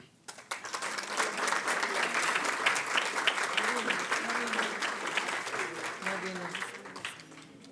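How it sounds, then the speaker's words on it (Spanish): An audience at a monthly business executives' association meeting breaks into sustained applause, dense clapping rising quickly and holding steady before tapering slightly, with faint voices underneath. "Un fuerte aplauso para Diana Cecilia Mosquera."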